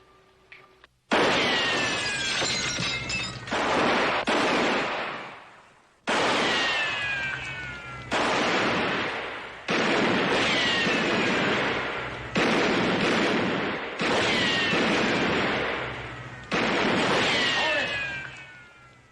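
Gunshots from a western shootout ring out in a series of loud, sharp blasts, each followed by a long echoing decay, spaced a second or two apart.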